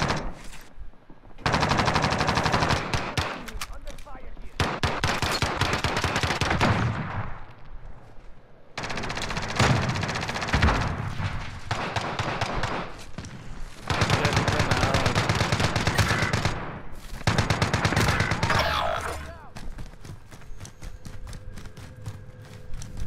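Gunfire in the Warzone Resurgence video game, long stretches of rapid automatic bursts broken by short silent gaps, loud and close, ending with quieter scattered shots.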